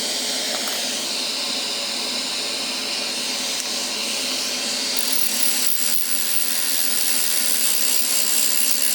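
A rotary tool fitted with an aluminum oxide burr polishing a piece of agate, giving a steady, loud, high whirring grind that runs unbroken throughout, with no voices.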